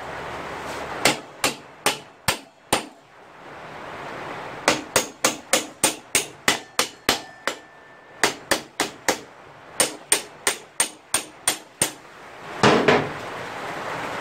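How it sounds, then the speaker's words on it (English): A hammer strikes metal while a farm bike wheel is being fixed: sharp, close, evenly spaced blows in bursts of several hits with short pauses between them. "We are going to need a hammer."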